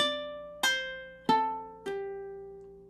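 Ukulele plucks the opening notes of a riff, four separate bright, ringing notes spaced about half a second apart, each decaying slowly, played alone and close in a quiet room.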